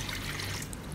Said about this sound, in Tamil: 1/2 கப் தண்ணி